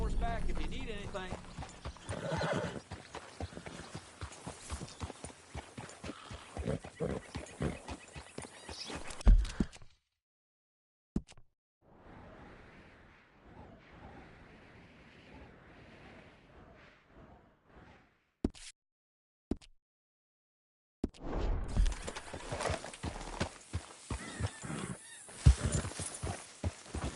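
Horse in the Red Dead Redemption 2 video game on PS4, busy clip-clopping hooves with snorts and a whinny, then a quieter stretch and the bustle returning, mixed with talk.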